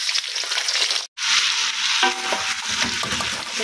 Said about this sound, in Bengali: এখানে মুরগিগুলো যতটুকু ভাজার দরকার না ভেজে ফেলছি বুঝছো।